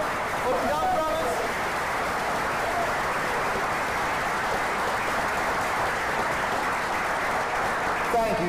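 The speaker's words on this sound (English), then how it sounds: "let's clap it up for the young brothers" Sustained audience clapping at a Black male development symposium for boys under 18 standing up, broad and even applause that continues throughout with faint cheering near the start and end.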